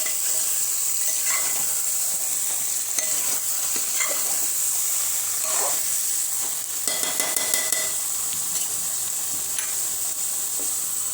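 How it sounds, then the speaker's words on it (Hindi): Mixed vegetables stirred in a handi over a steady sizzle, with a spoon scraping and clinking against the pot in scattered strokes. "अच्छे से हम मिक्स कर लेना है"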